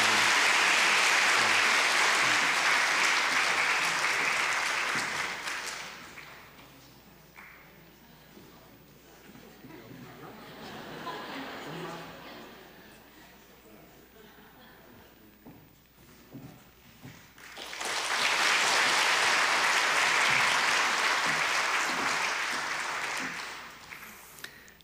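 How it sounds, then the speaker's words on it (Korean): A church congregation at a Sunday morning worship service claps loudly for several seconds, fades into quieter murmuring and shuffling, then bursts into a second long, full round of applause. "박수 한번 하겠습니다."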